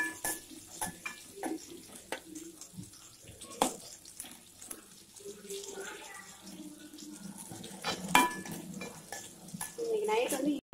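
Onions frying in a pan for a kurma, close-up stirring scrapes and clinks over a soft sizzle, with running water and other kitchen clatter mixed in and a voice briefly audible in the background.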